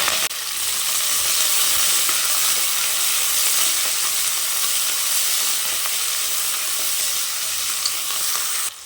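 Green chilli and onion fry in a hot pan for a vegetable rice dish, giving a steady, close sizzle with light stirring scrapes. It runs continuously at an even level with no talking.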